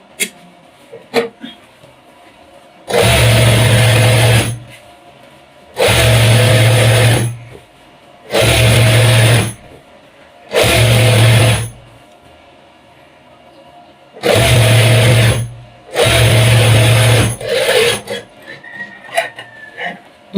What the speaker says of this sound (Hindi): ऐसे इसको सिलाई लगाना।